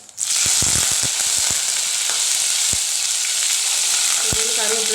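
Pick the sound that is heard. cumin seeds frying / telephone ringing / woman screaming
cumin seeds frying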